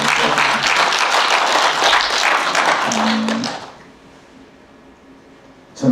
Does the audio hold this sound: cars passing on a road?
no